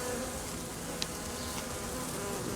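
Dense steady buzzing of many honeybees fanning their wings on top of a bottle, close and continuous, with a faint click partway through.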